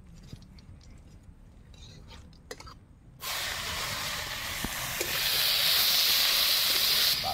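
Onions drop into hot oil already seasoned with bay leaf, dried red chili and whole cumin, and a loud sizzling hiss bursts in suddenly and keeps growing stronger, following quiet clinking kitchen sounds.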